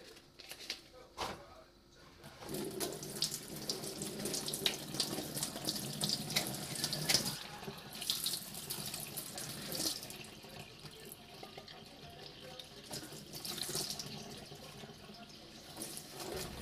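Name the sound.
running warm tap water while removing can label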